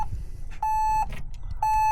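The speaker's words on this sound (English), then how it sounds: "If you leave the key in it, it'll keep beeping." Two steady electronic key-left-in warning beeps from a 32hp LS tractor, each holding about half a second with a pause between, over a low engine rumble.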